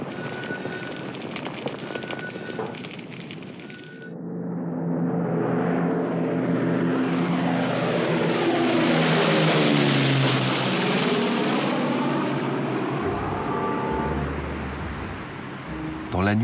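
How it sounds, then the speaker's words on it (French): A military airplane takes off from an airfield in Great Britain during the Second World War, its engine swelling from a low rumble to a loud roar that sweeps past and slowly fades as it flies away. "un avion décolle d'un terrain militaire en Grande-Bretagne"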